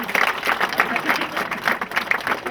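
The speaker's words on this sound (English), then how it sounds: "Give a round of applause there." Applause for a football team after the Desmond Cup Final between Broadford United and Glin Rovers, a short burst of scattered clapping from a small group, close by and mixed with voices.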